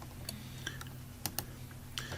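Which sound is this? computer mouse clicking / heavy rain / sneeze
computer mouse clicking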